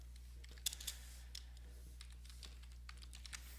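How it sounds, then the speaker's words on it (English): Keys tapped on a computer keyboard in quick, uneven bursts, faint against a steady low electrical hum, with a couple of sharper clicks near the start and no talking. "And it would help if I could type."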